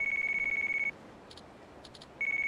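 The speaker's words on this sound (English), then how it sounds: "Oh, my phone." A mobile phone in the Yakuza Kiwami video game rings with a bright, rapidly pulsing electronic ringtone, briefly cutting out mid-ring before resuming, clear and fairly close.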